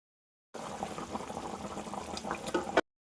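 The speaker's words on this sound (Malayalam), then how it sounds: "ഇപ്പോൾ തന്നെ നമ്മുടെ കറിയൊക്കെ തിളച്ച് വന്നിട്ടുണ്ട്." A Kerala-style roasted-coconut stingray fish curry simmers in a pot with a close, continuous bubbling and popping that lasts about two seconds.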